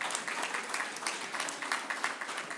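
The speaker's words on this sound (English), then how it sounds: "let's give them a round of applause." Faint applause from an audience, a steady patter of many hands clapping for a couple of seconds.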